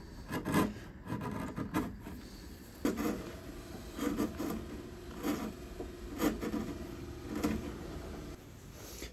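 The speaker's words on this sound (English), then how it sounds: "So we just carefully chisel this all away." Chisel paring wood on the back of a 1953 Gibson L-50 archtop guitar during restoration, a series of short scraping strokes repeating roughly every second, close and moderately quiet, with no talking.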